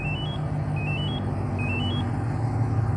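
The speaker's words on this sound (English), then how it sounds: "The vehicle will start in a few seconds." A 2019 Chevy Camaro with a manual transmission runs after a remote start, its steady engine rumble close and constant while three quick rising beep sequences chirp over it.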